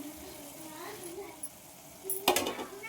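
Chopped onion tipped into a hot pan for a long beans stir-fry, a sudden loud sizzling burst near the end after quiet background hum and light stirring.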